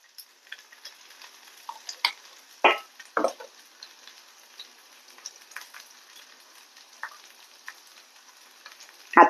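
Ground masala paste fries in a pan under a faint sizzle, while a spoon stirs and scrapes it in irregular close strokes and clinks.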